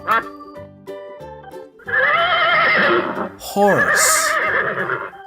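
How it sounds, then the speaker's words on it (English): A horse neighs loudly and close by, a shrill, quavering whinny that comes in two long bursts with a short break between them, after some brief shorter sounds at the start. "Horse."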